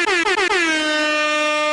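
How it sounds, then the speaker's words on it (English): A loud air horn blast sounded as a victory signal: one sustained blaring tone with a few quick stuttering pulses at the start, alone and close. "And give you the air horn of victory."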